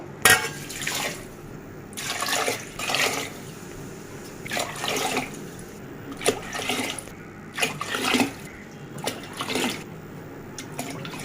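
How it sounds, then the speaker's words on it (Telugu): Glassful after glassful of water pours onto jaggery in a pot, making a series of splashing, gurgling bursts with short pauses between them, close up and with no talk. "నేను రెండు గ్లాసులు పిండి కనుక ఎనిమిది గ్లాసులు వాటర్ వేస్తున్నాను"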